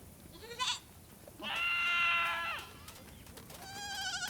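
Goats in a mixed herd of mothers and young bleat in several distinct cries: a short call, then a long loud wavering bleat, then another quavering one, with quiet outdoor ambience between.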